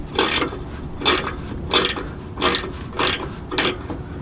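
Ratchet working exhaust bolts loose on a 1996 Mitsubishi Montero, six evenly spaced bursts of rapid clicking, close and fairly loud, with no voices.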